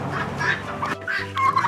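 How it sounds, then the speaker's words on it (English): Farmyard turkeys cluck and gobble close by in a burst of several calls, rising and breaking off in short, rough phrases with brief pauses between them. "I'm being attacked by turkeys."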